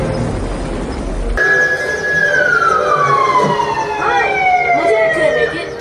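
A police car siren wails loudly and nearby, its tone sweeping down steadily after a sudden start, over a background of traffic rumble.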